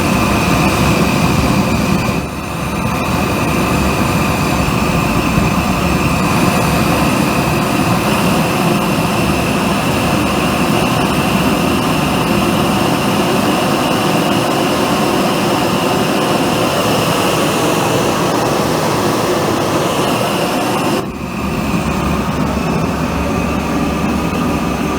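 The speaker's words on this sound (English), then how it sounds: "Pretty big lazy flame. Yeah, this is not a high-speed nozzle for these low air velocities." A burner nozzle without air assist roars loud and steady, a broad rumbling jet-like flame noise that fills the whole stretch with only brief dips near the start and end.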